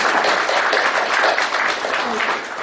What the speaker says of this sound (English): I would request all of you to give a big applause to yourselves